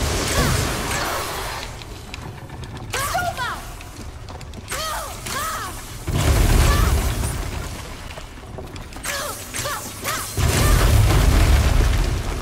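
Structure crashing down in the video game God of War: several heavy booms and rumbling crashes, loud and close, interleaved with shouting game voices.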